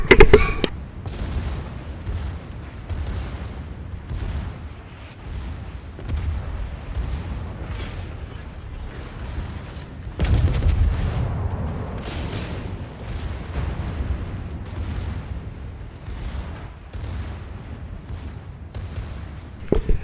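Artillery and gunfire in a Stalingrad siege war video game, with repeated heavy booms and blasts about every second over twenty seconds, loud and rumbling, with a louder burst midway.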